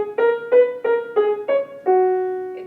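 Piano plays the children's song theme from Debussy's Gardens in the Rain: six clear, evenly spaced notes in a short melodic phrase, the last one held and ringing, close and alone with no talking.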